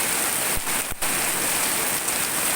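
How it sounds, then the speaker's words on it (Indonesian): Heavy rain pours down steadily in Cikarang, a dense, constant downpour hissing on surfaces over a flooded street, loud and unbroken throughout with no voices. "Ini udah kayak air di tuang nih, benar-benar hujan nih."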